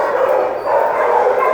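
A beagle at a county animal shelter gives a close, loud yelping bark-whimper, one continuous plaintive vocal call.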